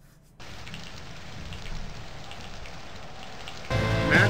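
Steady rain in Wrestling Empire hisses evenly after a short quiet start, then gives way to a louder, busier sound in the final moments.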